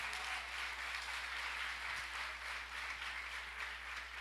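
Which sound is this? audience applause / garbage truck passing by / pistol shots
audience applause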